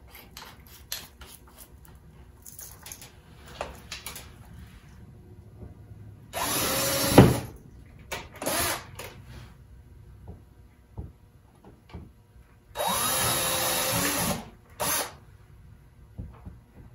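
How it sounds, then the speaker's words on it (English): A power drill pre-drills holes for anchors in two loud, sustained bursts, each lasting about a second or two, between quieter handling clatter and knocks nearby. "And now I'm going to pre-drill holes"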